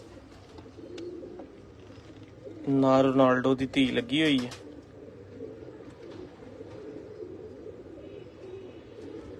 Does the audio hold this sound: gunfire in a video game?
no